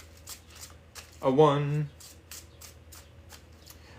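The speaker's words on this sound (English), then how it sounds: "3 more shuffles." Tarot cards are shuffled by hand in one brisk, close riffle lasting under a second, with a voice counting before and soft handling noises around it.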